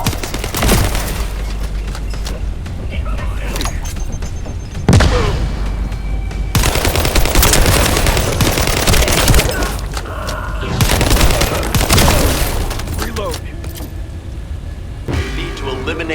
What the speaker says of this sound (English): we're now caught in the crossfire.